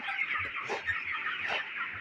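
Twenty-six-day-old broiler chickens cluck and chatter together on a poultry farm, a steady close flock murmur with a few louder calls rising above it.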